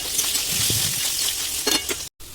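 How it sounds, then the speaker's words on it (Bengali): Potatoes sizzle in hot oil with nigella seeds for an aloo posto dish, a steady close frying hiss broken by the scrape and clink of a stirring utensil, with no talking. "তারপরে দেখো আলুগুলো তেলের মধ্যে ছেড়ে দিলাম"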